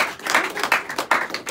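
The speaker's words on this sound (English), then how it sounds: "Hey, let's give Kim a big round of applause again." A small audience at a magic show gives a short burst of applause, bright clustered claps in uneven waves, fairly close and lasting under two seconds.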